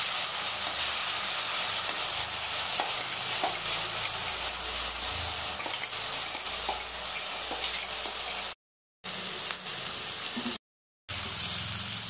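Green chillies hiss and sizzle steadily in about three tablespoons of hot oil in a pan. The loud, close sound runs on with faint stirring scrapes and two brief dropouts.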